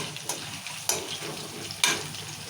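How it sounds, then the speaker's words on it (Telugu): Green chillies frying in hot oil in a home kitchen, giving a steady crackling sizzle. A few louder bursts of spatter come at intervals as they are stirred. "మిరపకాయలు మాత్రం నూనెలో మంచిగా వేయాలి"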